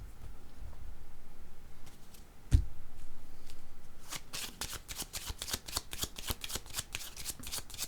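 Cards being shuffled before one is drawn: a quiet stretch with a single sharp tap, then a fast, close flurry of crisp flicking riffles for the last few seconds.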